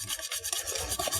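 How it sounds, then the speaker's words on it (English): A hand whisk scrapes through cake batter of eggs, water and oil in a bowl. Quick, rhythmic rubbing strokes sound close and brief, with no talking. "I'm going to just basically whisk it until it's all smooth."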